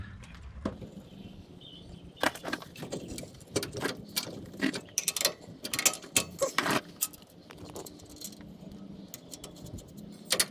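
Hand tools work on the bottom shock absorber bolt of a 1995 Chevy 2500 Series 4x4 pickup, irregular metallic clicks and ratcheting taps in bursts, close and fairly quiet against a faint background.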